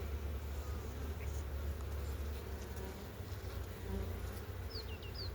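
A dense, steady buzz of many honey bees at an open hive fills the scene without pause, close and even, with faint birdsong briefly near the end.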